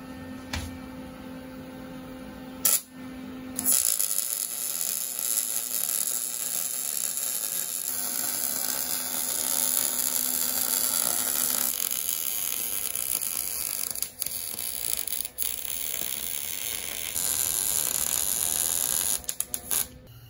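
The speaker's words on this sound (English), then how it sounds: "Hey, we're done welding." Welding during a DIY school bus roof raise in cold weather, with a steady harsh buzzing crackle that runs in long stretches broken by brief stops and restarts. There are bits of mechanical clatter and no speech.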